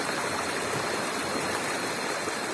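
A natural stream pours down a small waterfall among rocks, a steady close rushing and splashing of water that fills the whole stretch without pause, with no voices.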